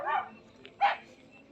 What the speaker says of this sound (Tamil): ஒரு நாய் வருது பாருங்கள்,